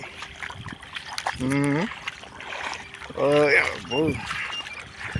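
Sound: rainwater flowing through flooded fields

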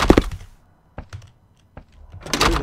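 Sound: door being closed in a horror video game

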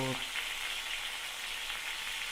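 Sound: pointed gourd (potol) frying in a pan

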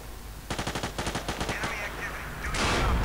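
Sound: enemy gunfire in video game Battlefield 2

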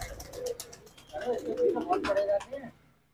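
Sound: pigeons in a breeding setup

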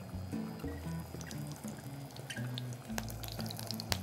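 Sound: squid pieces spitting and releasing water in hot pan

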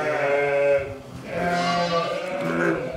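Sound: sheep bleating

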